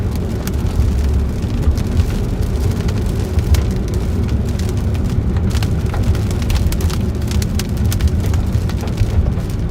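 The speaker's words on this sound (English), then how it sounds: "it's raining and it just rained" Rain falling outside a car during a Nebraska storm makes a steady, dense patter on the vehicle with a low rumbling undertone. The sound stays even and constant throughout.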